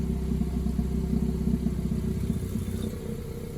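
A 2019 Acura TLX idles with its exhaust cutout valves fully closed, giving a steady, low, close-to-stock rumble that holds even and unrevved throughout.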